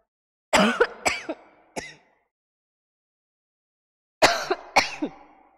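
A person coughs several times in two separate fits, harsh and close, with a few seconds of silence between them.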